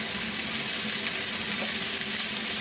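Vegetables stir-fry in a high-output home-made wok station, giving a loud, steady, dense sizzle that continues without a break, close up and with no voices.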